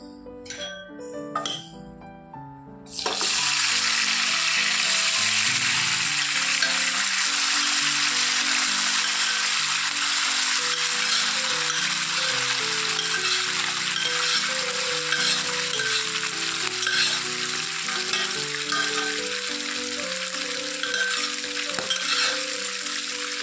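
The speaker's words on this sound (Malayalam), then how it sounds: "അപ്പോൾ എണ്ണ ചൂടായിട്ടുണ്ട് നമുക്ക് നമ്മുടെ ബീഫ് ഇട്ട് കൊടുക്കാവേ" Beef pieces hit hot coconut oil and sizzle loudly and continuously after a few quiet clinks of utensils, the strong frying hiss carrying on steadily to the end.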